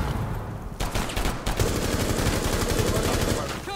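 Rapid gunfire in the Consulate video game during a ranked match, a dense run of shots lasting most of the moment, with faint voices mixed underneath.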